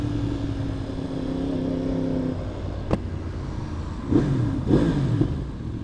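A Yamaha R1M sport motorcycle engine hums steadily, then revs in two sharp rising bursts with a crackling exhaust pop, close and loud.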